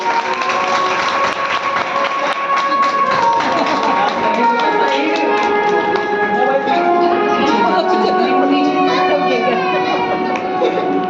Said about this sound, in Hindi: सभी तालियां बजा दीजिए।